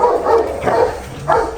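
Rottweiler dogs barking close by, three loud, deep barks spaced across a moment, with no talk over them.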